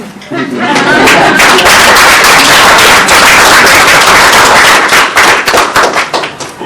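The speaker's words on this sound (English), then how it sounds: "we give both of them a hand clap" An audience at a dental care gathering claps hands for two honourees, a loud, dense burst of applause that rises quickly, holds for several seconds and then thins into scattered claps.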